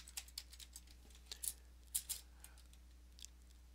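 Sparse keystrokes on a computer keyboard as a systemctl command is entered, quiet, close taps in short irregular bursts with pauses between them.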